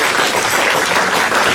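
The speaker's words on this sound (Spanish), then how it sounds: "Démosle ese fuerte aplauso al Rey" A church congregation gives a loud, sustained burst of applause, dense and continuous throughout.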